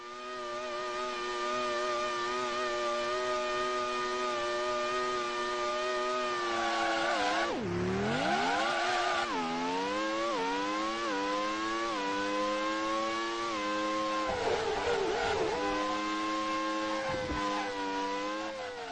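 Racing car engine effects from a DOS Grand Prix driving game: a loud, continuous synthetic engine drone that climbs steadily in pitch, drops sharply at gear changes and climbs again, with no voices.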